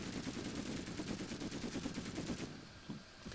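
Rapid automatic gunfire rattles continuously in Plastic Warfare, a dense stream of shots at moderate loudness that thins out near the end, with no voices over it.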